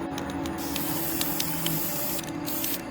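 A spray paint can sprays a side table in one continuous close hissing jet with faint clicks and small pulses, steady and fairly loud across the whole stretch.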